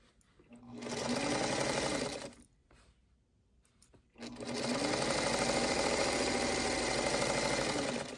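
A sewing machine chain-pieces fabric strips for a quilt block, feeding one piece after another. It runs in two steady, close whirring bursts separated by a short pause.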